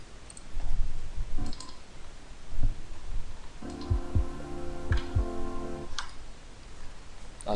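Sparse, irregular clicks of typing on a computer keyboard during DJ software setup, close and fairly soft, with a steady electronic hum and faint rustling in between.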